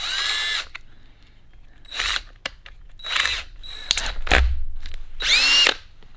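A power drill with a step bit drills a 5/8-inch hole, whirring in several short bursts, spinning up and stopping repeatedly, close by, with quiet gaps between.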